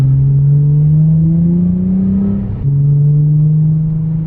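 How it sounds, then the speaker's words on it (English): A Nissan 350Z engine with a muffler delete drones steadily with a deep, throaty exhaust note, pitch rising gradually before a brief dip and a steady hum again. "I love the muffler delete, but it's just really not loud enough now."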